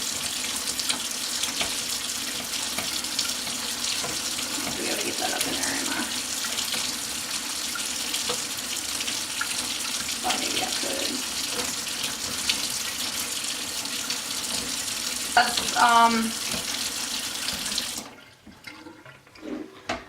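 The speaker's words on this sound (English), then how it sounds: "why do I leave the water run, or do I leave it run?" Tap water runs steadily into a sink while a Dyson V6 is being cleaned, a loud constant splashing stream under brief muttered talk, then cutting off abruptly near the end.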